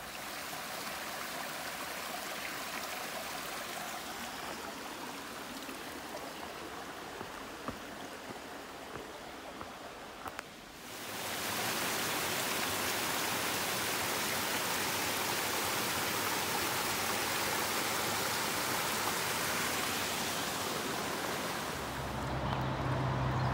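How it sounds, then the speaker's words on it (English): The Pigeon River rushing below an Appalachian Trail crossing between Tennessee and North Carolina, a broad continuous roar that starts moderate, then swells abruptly louder and stays steady to the end. "It's the Pigeon River."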